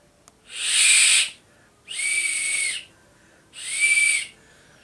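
A solid wild boar figurine used as a whistle, blown through its tail, gives three separate, loud, breathy high toots, each about a second long with short gaps between.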